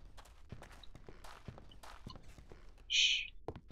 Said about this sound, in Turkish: Ayak sesi geliyor.